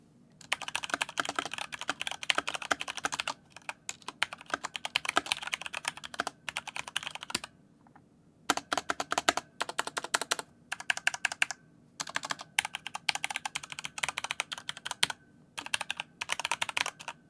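Rapid typing on a Corsair K95 RGB Platinum mechanical keyboard, dense clattering key clicks in rhythmic bursts with brief pauses, close and loud with no talking.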